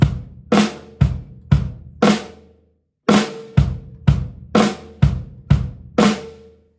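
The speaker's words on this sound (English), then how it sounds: "playing a flam followed by 2 bass drums, another flam followed by 2 bass drums, and then finishing with a flam on beat 4" Snare drum flams alternating with pairs of bass drum hits in a steady eighth-note pattern, ending on a flam on beat four; loud, close percussive strikes with no talking.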